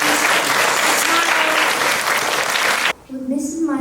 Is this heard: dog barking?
no